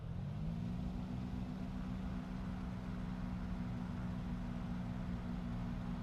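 A Piper PA-28-236 Dakota engine in MSFS 2024 drones steadily during the takeoff roll, a loud continuous propeller-engine hum whose pitch rises slightly at first and then holds constant.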